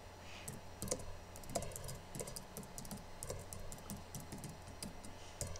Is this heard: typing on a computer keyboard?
yes